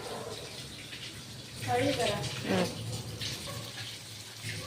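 Running water splashing over a stone mortar being washed, a continuous rush that swells louder for a few seconds midway, with a voice talking faintly underneath.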